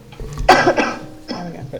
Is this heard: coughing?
yes